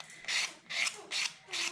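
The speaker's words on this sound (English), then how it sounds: "I might just do a little sanding" Four rhythmic rasping strokes of sanding the cut edges of a paper card, each a short scratchy rub, evenly spaced and close by.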